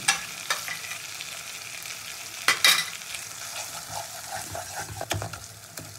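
Spice pastes sizzle and crackle in a pan for a fish curry of tangra, with faint stirring scrapes and a few sharper spatters over a steady frying hiss.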